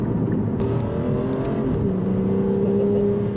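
An Aston Martin Virage accelerates, its engine note rising steadily in pitch under a loud continuous roar heard from inside the car.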